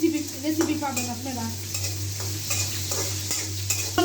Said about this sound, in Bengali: এখন আমি মরিচটিকে সুন্দর করে ভাজবো